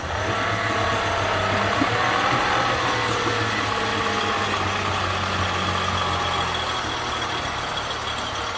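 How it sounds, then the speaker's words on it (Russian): A rebuilt Honda 30 outboard motor runs poorly, a steady, continuous engine drone with a rough mechanical rattle, close and loud throughout with no talking. "Мотор собрали. Никаких стуков нет. Но вот что-то работает он совсем плохо."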